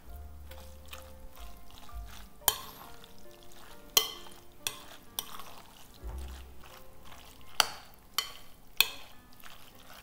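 A salad is mixed carefully in a bowl, with soft squishy rustles and several sharp utensil clicks against the dish, close and without talking.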